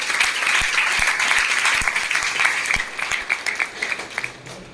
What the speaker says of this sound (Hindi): तो इनका एक बार जोरदार तालियों से स्वागत करना।